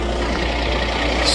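A Peterbilt 389 truck engine idles as a steady deep rumble with constant broadband noise, close by and unchanging, in cold blizzard conditions.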